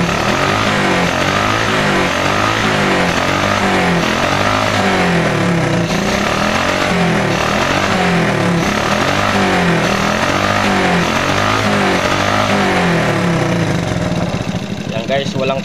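A 110cc carburetor motorcycle engine runs loud and close, its throbbing exhaust rising and falling in repeated revs, with a voice talking over the engine.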